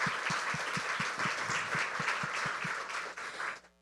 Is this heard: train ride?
no